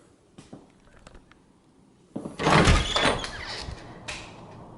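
A back door at a home rattles open and then closes with a loud scraping, thumping rush, after a few soft handling clicks, close by and without talk.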